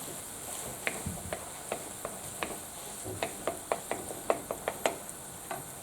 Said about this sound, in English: Give that a nice mix.